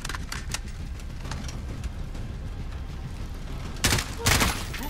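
Machine gun fire in the Call of Duty: Modern Warfare campaign crackles as a running fusillade of rapid shots, ending in two louder, heavier bursts near the end.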